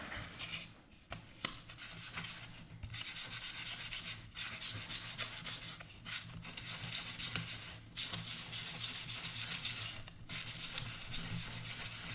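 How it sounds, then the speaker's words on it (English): Sandpaper rubs back and forth in steady, continuous strokes, with brief pauses between passes, close and moderately quiet. "Get a little bit of sandpaper."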